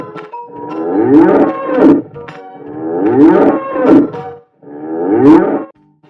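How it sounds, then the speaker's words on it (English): Zebu cattle mooing: three long, loud, close moos, each rising and falling in a drawn-out bellow, separated by short pauses. "Zebu."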